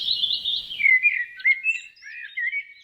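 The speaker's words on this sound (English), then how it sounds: "birds chirping," Birdsong rings out in clear, high, warbling chirps and trills, a short sequence of bright tweets after a brief faint hum, close and alone with no talking.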